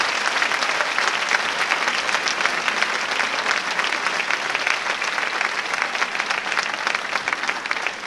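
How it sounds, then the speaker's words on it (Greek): A festival audience claps warmly for a children's choir at a world choir festival of musicals, sustained loud applause filling the room without a break. "Ένα ακόμα θερμό χειροκρότημα για τη χοροδία Φίβος Γλυ."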